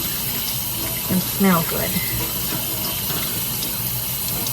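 Tap water runs steadily from a faucet while an American Girl doll's hair is rinsed at a sink, a constant close splashing wash with brief talk over it.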